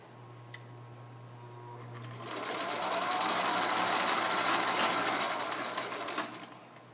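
A sewing machine runs a tight zigzag stitch through a belt in one steady, rapid burst of a few seconds, rising from a quiet start and stopping cleanly.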